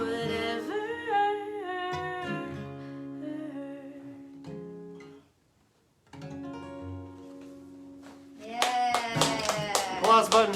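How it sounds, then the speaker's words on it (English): A canned applause sound effect from an applause button bursts in near the end as quick, bright clapping, following a stretch of singing and instrumental tones broken by a brief pause. "Applause button."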